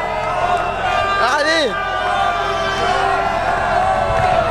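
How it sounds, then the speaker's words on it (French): Spectators at the Route du Rhum start shout and cheer at night as a solo racing yacht leaves the harbour, with one loud close voice calling out over a continuous crowd roar. "on est sorti sous les applaudissements et sous les cris du public"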